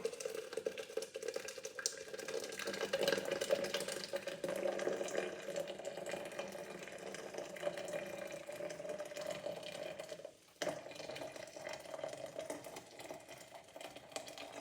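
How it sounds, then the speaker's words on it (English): Steady pouring of hot water into a Bodum French press over coffee grounds, a continuous splashing rush that holds for most of the stretch with a brief pause near the end, close by. "Now we will pour the water in the French press with the coffee."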